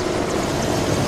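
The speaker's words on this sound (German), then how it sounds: "der Heli kommt gerade gut" Helicopter in a video game, a continuous broadband rotor and engine roar filling the whole moment without any talk.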